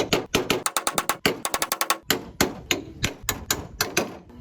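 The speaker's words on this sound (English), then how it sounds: "drill and cut out behind the dent so that I can get in there with a hammer and" Hammer pounding out a dent in a steel car panel, a rapid series of sharp metallic blows in irregular bursts, some in quick flurries and others spaced apart, close and clear with no talking.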